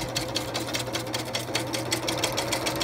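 Sewing machine stitching Velcro onto a canoe spray skirt, running slowly with a steady, rapid mechanical chatter and rhythmic needle beats, close and continuous for the whole stretch.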